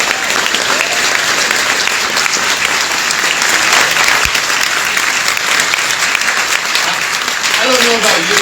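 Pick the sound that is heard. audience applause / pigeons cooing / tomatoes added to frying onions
audience applause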